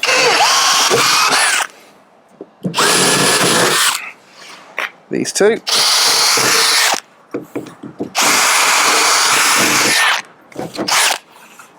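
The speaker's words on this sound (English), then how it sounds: "I'm going to drill these 2 out as well" A power drill whines loudly in three long bursts, drilling out rivets on a Land Rover 110 roof, with short pauses and clanks between them and a brief spoken remark.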